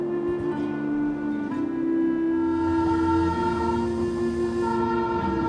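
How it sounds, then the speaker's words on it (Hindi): Darjeeling toy train climbing the hills, a steady mechanical drone with sustained tonal hums, close and continuous throughout, no voices. "धीरे धीरे चढ़ते हुए ये रेल आखिर पहुंचती है घूम"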